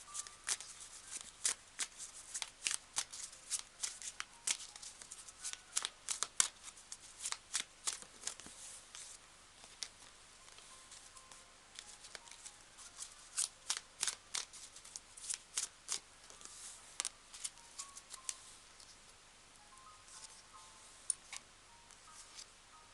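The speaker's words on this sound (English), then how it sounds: "I will pull some cards." Tarot cards being shuffled and pulled, a long run of crisp riffling flicks and snaps that comes in bursts, close and fairly quiet, with short pauses between handfuls.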